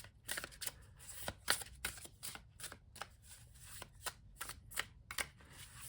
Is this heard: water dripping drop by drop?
no